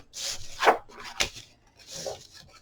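A bone folder or stylus scoring a half-inch line on paper for a handmade mini album. The soft scraping strokes come in three short passes, close and fairly quiet, with no talking.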